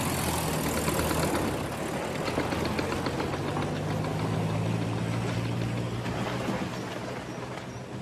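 A van engine running at idle, a loud, steady low rumble with a rough knocking texture that continues throughout and eases slightly toward the end.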